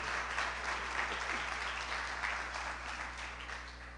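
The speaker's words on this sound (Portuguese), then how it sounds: "Dê um forte aplauso ao Senhor e glorifique o nome dele." Church congregation applauding steadily in a worship service, a dense, sustained wash of many hands clapping at even loudness throughout, with no voices standing out.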